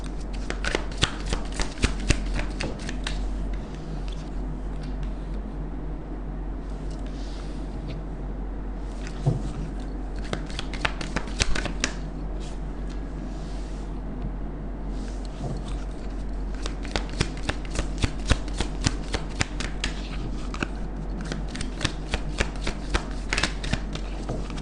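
Tarot cards are shuffled for a long stretch in rapid riffling bursts with brief pauses, close up over a steady low hum.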